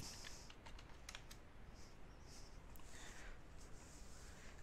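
Computer keyboard typing into a Windows search box, a few quick soft keystrokes in short bursts over a faint hiss, quiet and close, with no talk.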